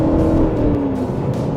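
Aston Martin DB11 twin-turbo V8 revving hard on a country road, a loud, steady engine roar with a brief falling tone as the revs drop, heard from inside the car.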